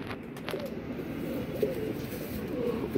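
Pigeons coo softly in a pet bird enclosure, with low repeated murmuring calls over a steady background hum and faint clicks, moderately close.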